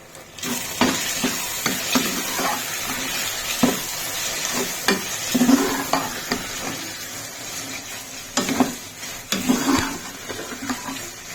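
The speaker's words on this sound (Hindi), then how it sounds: "अब इसे अच्छी तरह से मिक्स कर लेंगे।" Okra masala with cumin, turmeric and red chilli is stirred in a pan, with repeated scraping and clinking of the spoon over a steady sizzle.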